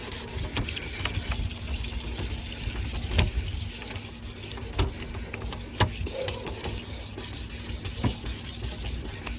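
Wet sandpaper rubbing by hand on the plastic lens of a yellowed headlight from a 1998 Jeep Grand Cherokee ZJ, steady rasping strokes in a regular back-and-forth rhythm, close and moderately loud with no talking.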